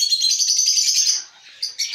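Pet budgerigars in a home aviary chirp in a steady chattering stream of high tweets, close by, which thins out briefly before a few more bright calls; no voices.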